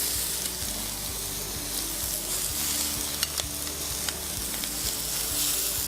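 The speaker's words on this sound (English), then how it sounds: "We like the sound of the sizzle already." Chicken and vegetable fajita mixture sizzles steadily on a hot barbecue plate, a continuous close crackling hiss with occasional sharper pops and the light scrape of stirring.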